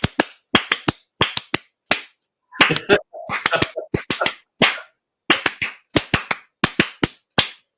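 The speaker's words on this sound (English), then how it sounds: "The Japanese applaud thing at the end of something like a concert or" A group claps in the Japanese style at the end of a concert or party, with sharp unison claps in a rhythmic pattern of single claps and quick bursts separated by silences. A voice briefly asks a question.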